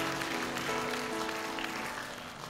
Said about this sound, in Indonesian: Boleh tepuk tangan dulu yang meriah bagi Tuhan.